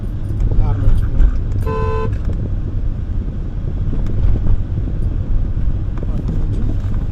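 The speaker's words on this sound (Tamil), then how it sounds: "ஹார்ன் வச்சுக்கணும்." A car horn gives one short toot during a driving lesson, rising briefly over steady engine rumble, road noise and wind, while an instructor speaks.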